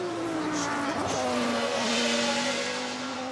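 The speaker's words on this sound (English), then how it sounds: "As we have a spin here by the Seba Automotive Porsche." A Porsche race car at the 2006 Le Mans 24 Hours spins on a wet patch of track in front of the pits, its engine a loud, steady, continuous drone with no break for the full stretch.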